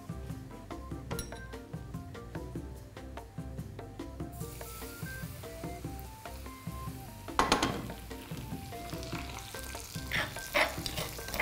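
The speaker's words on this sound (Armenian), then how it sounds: "Հիմա լավ տաքացած բուսայուղը լցնում ենք համեմունքի վրա։" Hot vegetable oil poured onto spices for an Armenian radish dish sizzles in sharp bursts, layered over steady background music, with a couple of louder crackling surges near the end.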